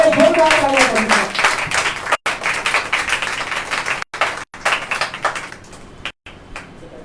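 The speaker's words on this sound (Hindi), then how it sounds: "आइए जोरदार तालियां बजाएं।" Loud clapping from a church congregation at a Sunday service welcomes the preacher, with dense applause at first that thins into scattered claps with brief gaps, and a voice speaking at the start.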